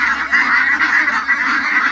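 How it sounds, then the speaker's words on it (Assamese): Local domestic ducks honk continuously and loudly at close range, a dense overlapping chorus of nasal calls with no talk over it. "লোকেল হাঁহ, লোকেল।"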